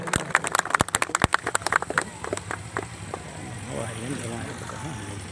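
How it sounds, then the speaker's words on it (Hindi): Loud applause from an audience at a Republic Day event held by an Islamic society in a village, sharp dense clapping that tapers off after two seconds into a continuous drone. "जोरदार तालियों से"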